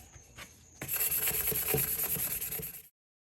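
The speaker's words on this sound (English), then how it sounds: "I'm just gonna wipe this down with alcohol as well and see what I can remove off of this one." Soft rubbing and wiping strokes as a cloth with alcohol is worked over a stainless steel tumbler, a faint start followed by steady close scrubbing for about two seconds, then silence.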